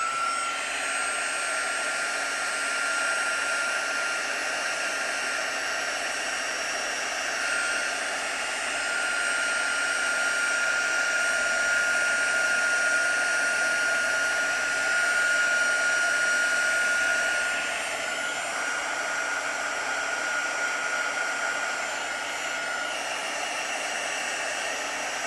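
A heat tool blows hot air steadily onto bubbles, a constant loud whooshing roar with a faint whine that holds level throughout, no voices.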